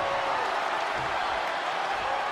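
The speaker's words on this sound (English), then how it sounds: "when you can't hear yourself think because the crowd's so loud" Loud arena crowd from the WWE 2K20 wrestling video game, a dense, steady roar that fills the whole stretch without letting up and with no voices standing out.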